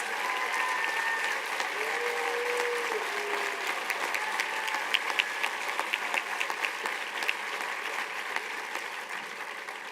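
A large crowd at a college commencement celebration applauds continuously, a dense, even clapping that holds steady throughout with a few sharper individual claps standing out and no speech over it.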